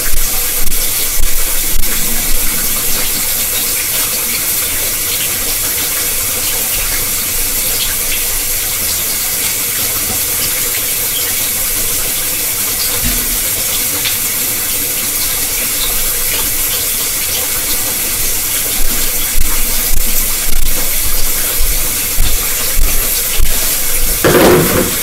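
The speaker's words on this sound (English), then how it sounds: "we're gonna pour this out and be right back." Liquid pours out in a long, continuous splashing rush like water running from a tap into a sink, loud and steady for about twenty-five seconds and growing more turbulent near the end.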